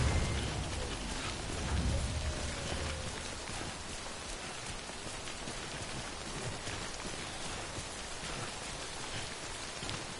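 Steady, even rain hissing in the video game Death Stranding, a dense wash of falling drops with no pauses, fairly close and constant throughout.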